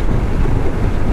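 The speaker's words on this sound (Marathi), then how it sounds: "मच्छर भगाने वाली मशीन." A mosquito fogging machine spraying thick smoke in a busy roadside traffic area: a loud, close, unbroken roar with a heavy low rumble and no voices.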